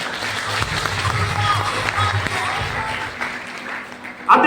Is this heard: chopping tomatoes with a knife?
no